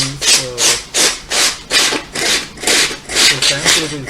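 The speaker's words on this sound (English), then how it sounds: "So sandpaper is pretty much easy to remove that leather pieces." Sandpaper rubs back and forth on peeling bonded leather on a sofa, about a dozen loud, close rasping strokes in a steady rhythm, with no talking.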